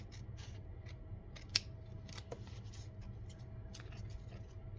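Fiskars scissors snip at a gentle pace through paper, with soft, crisp cuts and one sharper click over a low steady background hum; no one speaks.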